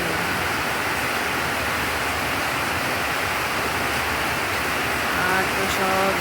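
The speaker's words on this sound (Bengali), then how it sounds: "জোরে বৃষ্টি শুরু হয়ে গেল।" Heavy rain pours down in a dense, continuous roar that stays loud and steady throughout, with no breaks.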